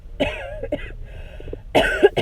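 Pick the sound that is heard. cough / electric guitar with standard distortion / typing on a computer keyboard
cough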